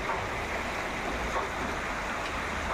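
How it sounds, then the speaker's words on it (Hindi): Steady, continuous rain pours down in a village, an even wash of broadband noise with no letup and no voices over it. "बाहर का तो बारिश ही चल रहा है, कंटिन्यू बारिश है"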